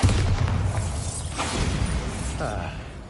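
A Bombarda spell explosion in Hogwarts Legacy, a short burst of blast and rumbling debris with mechanical clatter, loud and close, with a voice speaking over it.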